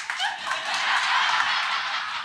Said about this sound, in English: Both hands, you hear the clap?